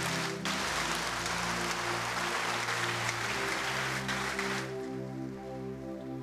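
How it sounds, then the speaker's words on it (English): A church congregation claps together in a dense, sustained wash for about four and a half seconds, with music or organ tones running beneath, before the clapping fades and the music carries on. "if you want to clap,"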